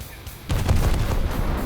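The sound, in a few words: Shokaku aircraft carrier's 5-inch guns firing in War Thunder video game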